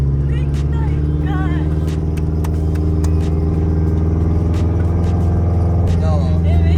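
A car engine drones steadily and loudly while the car drifts through a donut, holding an even, throaty hum throughout with faint tyre and clatter noises and voices on top.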